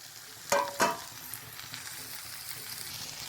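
Masala spices sautéing with baby potatoes in a little oil, opening with two loud stirring scrapes, then settling into a soft, steady sizzle.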